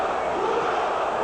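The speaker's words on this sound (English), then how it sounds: "The crowd chanting for Ruelas." A boxing crowd at a WBC super featherweight title fight chanting loudly for a fighter, a dense, sustained roar of many voices filling the arena.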